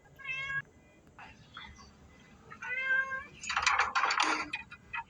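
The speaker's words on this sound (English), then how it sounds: "You hear my cat?" A cat meows several times, with harmonic, drawn-out cries, one loud and rough near the end, over faint background noise.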